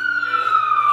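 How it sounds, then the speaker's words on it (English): A loud siren wails with a steady high tone that slowly drops in pitch, sounding fairly close. "The sirens doesn't respect anyone anymore."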